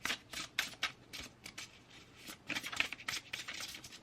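Quiet, close-up riffle and bridge shuffling of matte tarot cards: a rapid series of crisp papery riffles and flicks in uneven bursts, with no talking.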